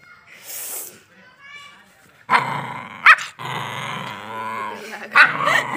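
A dog growls and barks in a home during a squabble between sisters, rough snarls and sharp bursts mixed with people talking close by.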